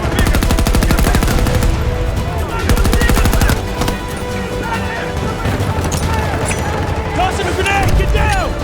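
Dense video game gunfire, rapid machine-gun bursts and overlapping shots that continue without a break, loud and close, with voices calling out over the firing.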